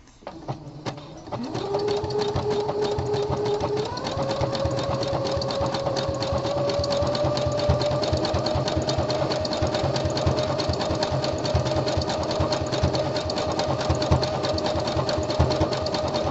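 A home sewing machine stitches a gusset panel onto boxer briefs, running steadily and close for most of the stretch after a brief start, its motor hum rising slightly in pitch partway through, with a fast regular needle clatter throughout.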